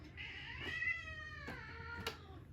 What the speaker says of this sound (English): I have to let my cats out.